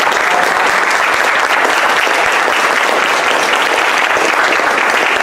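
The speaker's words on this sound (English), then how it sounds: "we want to give a huge round of applause to our speakers" A large audience at a community event gives a loud, steady round of applause for the speakers, the dense clapping continuing without a break for several seconds.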